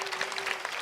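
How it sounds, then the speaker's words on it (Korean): A church congregation at a Sunday young-adults service breaks into a quick burst of applause, a short dense round of clapping with a faint voice underneath. "다 박수 한번 쳐주면 좋겠는데요"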